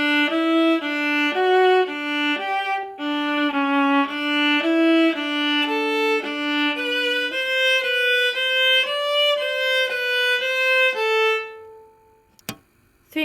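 A solo viola plays a quick, articulated eighth-note passage from a Brandenburg concerto, clear and close with distinct repeated bowed notes, ending in a brief pause and a small knock.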